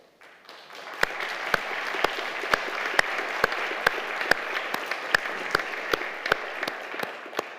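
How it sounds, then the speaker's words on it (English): Lecture hall audience at a keynote lecture of the Humboldt Award Winners' Forum applauding, a steady wash of clapping with sharp, evenly spaced claps standing out in a regular rhythm. "The applause is more than deserved."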